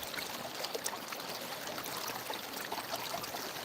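Yahula Creek in Dahlonega, Georgia, ripples and trickles softly and steadily, a faint, even stream murmur with no voices.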